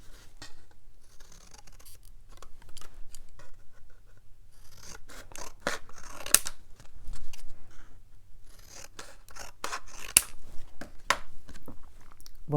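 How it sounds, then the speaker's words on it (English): Scissors cutting out a card shape from watercolor paper, making soft snips and rasps close by that come in irregular bursts with quiet gaps between them, with no talking. "And just cut out the shape."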